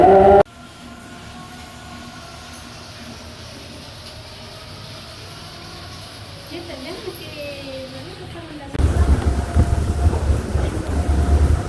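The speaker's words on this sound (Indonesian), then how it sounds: "Oh, anginnya kencang banget." Strong storm wind roars around the floating mosque in Makassar as a steady rushing rumble, then gusts much louder and harsher toward the end, with a voice faintly present.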